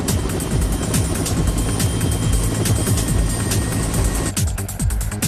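A helicopter carries the end of a bridge cable from the anchorage to the first tower of the world's longest suspension bridge. Its steady rotor chop pulses continuously and loudly, with no talk over it.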